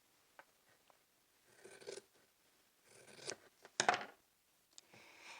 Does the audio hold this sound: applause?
no